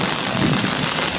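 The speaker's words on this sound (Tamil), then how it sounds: "ராஜவீதி உள்ளிட்ட பகுதிகளில் மிதமாக மழை பெய்தது." Moderate rain falls on city streets, a loud, dense, steady hiss of drops on hard surfaces with no voices.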